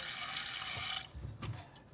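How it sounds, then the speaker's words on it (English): Tap water running into a pot for steaming Dungeness crab, a bright steady gush that stops about halfway, followed by a few soft knocks and splashes of the pot being handled. "get a bit of water in a pot going."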